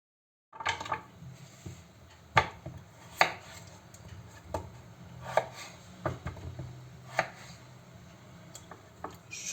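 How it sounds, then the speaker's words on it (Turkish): A knife chops potatoes into wedges on a cutting board, sharp irregular thuds spaced about a second apart, close and distinct in a quiet kitchen. "Öncelikle patatesleri e, elma dilim şeklinde doğrayacağız."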